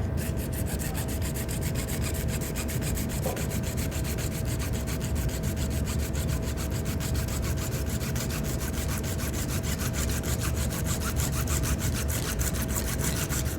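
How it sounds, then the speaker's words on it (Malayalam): A hacksaw cuts through a plastic plumbing pipe in a steady, continuous rasping rhythm that stays close and fairly loud from start to finish, with no talking. "ഇനി ഞാൻ അടുത്ത കട്ട് ചെയ്യുന്നത് ഇത് പ്ലംബിങ്ങിൻ്റെ പൈപ്പാണേ"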